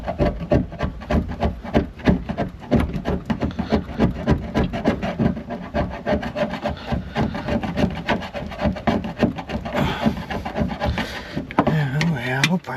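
A hand tool scrapes an outboard motor fuel tank during repair with steady, rhythmic rasping strokes, close and continuous, with a brief shift in texture near the end.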